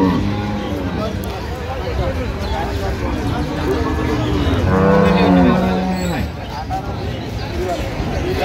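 Cows and calves low and moo amid the bustle of a busy cattle market at Ambari Haat in Dinajpur, with one loud nearby moo rising over steady crowd chatter and people talking throughout.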